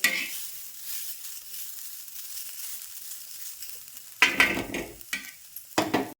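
Cluster beans sizzle and fry in an oiled pan on a gas stove, a steady soft crackle with louder bursts of stirring and scraping near the end, no voices.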